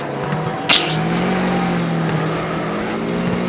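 The Hammerhead race car's engine in the Wreckfest video game drones steadily and loudly at a sustained pitch, with a brief sharp knock early on and no voices over it.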